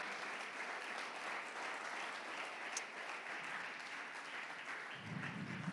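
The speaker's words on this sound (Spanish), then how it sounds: "Si ese aplauso es para el Señor," Faint, sustained clapping from a church congregation, an even wash of applause heard from a distance for several seconds, with a low thump near the end.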